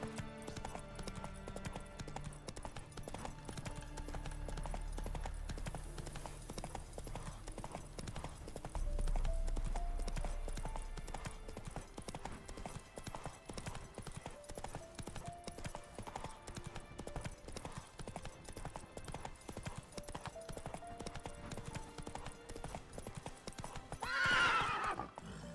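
Roach the horse's hooves clip-clop steadily in The Witcher 3, faint and continuous beneath game ambience, with a whinny rising near the end.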